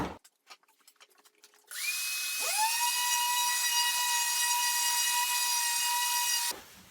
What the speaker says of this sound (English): everything's just going to get a really quick sanding